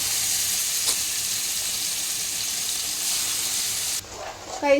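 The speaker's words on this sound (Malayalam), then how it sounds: "എൻ്റെ അമ്മ തിരണ്ടി പൊരിക്കുകയാണ്" Stingray fish frying in a pan gives a loud, continuous sizzling hiss close up, which drops away near the end as softer clinks and a voice take over.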